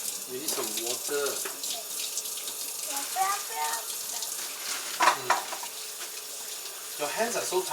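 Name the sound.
water running from a tap while washing hands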